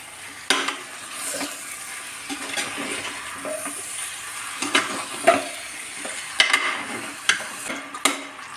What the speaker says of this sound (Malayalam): ചിക്കൻ ചേർത്തിട്ട് 2 മിനിറ്റ് ഒന്നിങ്ങനെ ഇളക്കി യോജിപ്പിക്കണം കേട്ടോ.